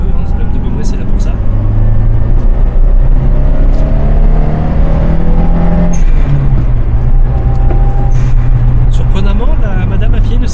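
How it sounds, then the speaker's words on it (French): Toyota Starlet Glanza V pulling away under acceleration, its engine tone rising in steady, loud drones from inside the car, with road noise throughout and no speech. "Accélérer un petit peu"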